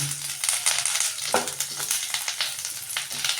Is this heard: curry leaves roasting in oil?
yes